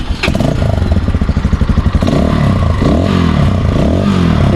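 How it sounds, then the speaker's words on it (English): The exhaust of a 2025 Zonsen Cyclone Carrera 200 motorcycle runs close by, opening with a rapid pulsing idle that settles into a steady, moderately loud drone with slight revs. "The sound coming from the exhaust is not so loud."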